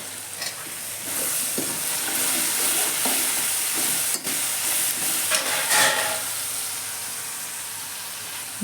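Chopped chilies and masala roasting in a hot pan, a loud continuous sizzle and hiss with occasional stirring scrapes, close and steady, no talking.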